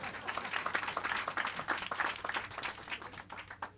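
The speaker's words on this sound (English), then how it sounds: "how about a round of applause for my mother?" Audience applause for a speaker's mother at a book talk, a fairly faint but steady patter of many hands clapping across the whole stretch.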